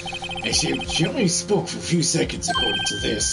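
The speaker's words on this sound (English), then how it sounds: "I heard a phone ring just now." A telephone ringtone from the Phoenix Wright Ace Attorney video game chirps in short repeated bursts, heard under steady spoken dialogue.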